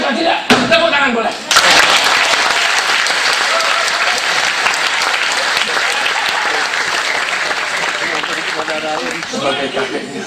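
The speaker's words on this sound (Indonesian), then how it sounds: "Tepuk tangan boleh." A theatre audience at a live Indonesian monologue performance bursts into loud, sustained applause. The clapping carries on for about ten seconds, dense and close, with a few louder claps and thumps at the start.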